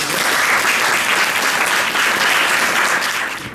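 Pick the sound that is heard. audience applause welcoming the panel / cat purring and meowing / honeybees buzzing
audience applause welcoming the panel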